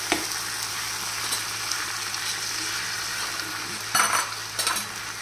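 Vermicelli fries and is stirred in a pan over low flame, giving a steady loud sizzle with a few scraping stir bursts near the end.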